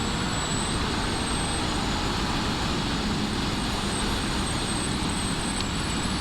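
A 2024 Honda CB1000R Black Edition is ridden on the road, producing a steady, loud, unbroken broadband roar of engine and wind with no pauses.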